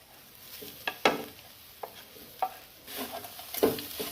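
Jackfruit pieces are stir-fried in a hot pan for Kerala jackfruit thoran: a soft steady sizzle with several sharp scraping and stirring clatters of a spoon against the pan, close by and without voices.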